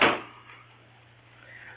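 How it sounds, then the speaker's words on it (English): A door shuts in an old radio drama, with one close thud at the start that fades into a quiet room tone and a low steady hum. "Shut the door, Chester."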